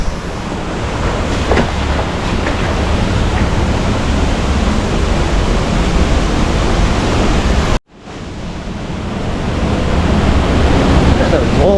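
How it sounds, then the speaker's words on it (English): Waterfall in a canyon in Bali, a loud, constant roaring rush of falling water close by that drops out briefly near the end before building back up. "But the waterfall is up here."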